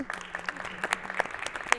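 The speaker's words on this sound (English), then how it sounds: "a big round of applause to all of you" Audience applause closing a workshop session at an internet governance forum, a dense, lively patter of many hands clapping at moderate distance, with a few sharper individual claps.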